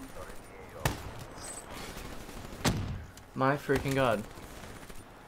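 Two sharp, isolated gunshots ring out in Black Ops 3 on PC, spaced a couple of seconds apart over quiet game ambience, followed by someone speaking.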